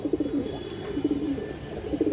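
Silver female pigeons with kajla markings give soft, repeated low coos nearby, each burst rolling briefly before the next, over a busy loft background with no voices.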